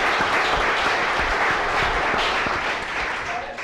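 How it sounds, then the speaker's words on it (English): An audience claps for the competitors at a chef competition show, a loud, dense round of applause that swells and then fades slightly toward the end, with no voices. "So big round of applause for all of them."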